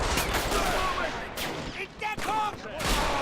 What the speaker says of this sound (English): It looks like they have some mortars or something. Oh dear. There's definitely mortars in here.